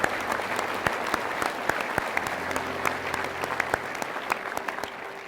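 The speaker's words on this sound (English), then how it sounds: "So please, a round of applause" An audience at a pole vault summit applauds steadily, with sharp individual claps standing out from dense, continuous clapping.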